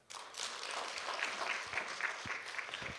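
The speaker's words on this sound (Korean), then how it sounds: "박수 한번 주세요." Applause from a church congregation at a worship service, broad steady clapping filling the space for about three seconds, with a few lower thumps near the end and no voices over it.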